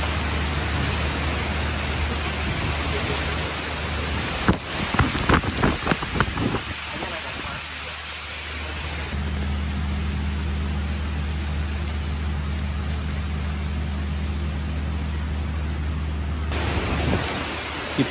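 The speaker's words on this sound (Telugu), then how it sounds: "గాలి వాన చాలా గట్టిగా అయితే పెరిగిపోయి" Heavy evening rain driven by strong wind keeps up a dense, steady hiss throughout, with a burst of sharper knocks and gusts partway through and a low hum underneath.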